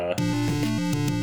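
A short synthetic video-game teleporting effect of warbling, pulsing tones that repeat quickly, loud and alone, lasting about a second.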